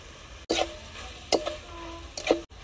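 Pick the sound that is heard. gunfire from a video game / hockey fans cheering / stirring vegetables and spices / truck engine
stirring vegetables and spices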